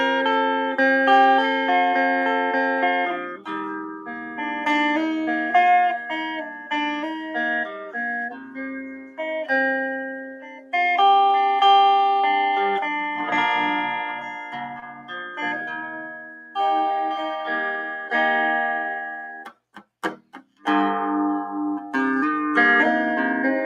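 An electric guitar, a Telecaster on its middle pickup position, plays melodic single notes and chords, bright but rounded in tone, with brief pauses and a few muted strums near the end.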